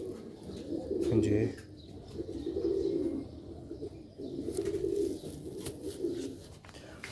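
Sialkoti pigeons with chhat crest, a grey breed among them, coo in repeated low rolling phrases close by, with a voice briefly heard between calls.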